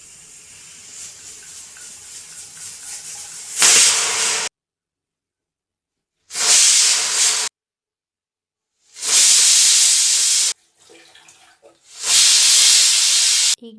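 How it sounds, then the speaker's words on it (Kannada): Pressure cooker on a gas stove cooking bisi bele bath, hissing out steam in loud bursts a few seconds long, separated by sudden silences, with a softer hiss in between. "ಈಗ 4 ವಿಸಿಲ್ ಆದ ನಂತರ ಗ್ಯಾಸ್ ಸ್ಟವ್ ಆಫ್ ಮಾಡಿ."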